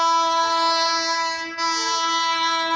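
Train passing with its horn blaring: a loud, sustained multi-tone blast held throughout, dipping briefly midway, with faint rumble beneath and no voices.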